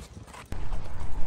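Hooves of an older racehorse clip-clop on the ground, a few muffled steps with a sharper thud midway, heard close amid wind-like rumble.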